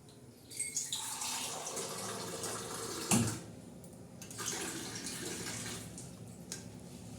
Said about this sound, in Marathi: आता आपण पाणी टाकतोय वरून हां हे चिकनला आपण पाणी टाकलेलं आहे